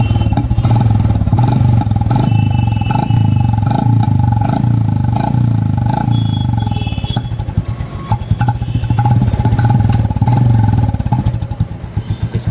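A Classic 350 motorcycle engine, its stock silencer replaced by a loud aftermarket exhaust, idles steadily, close by, with a deep thumping rumble and occasional small revs.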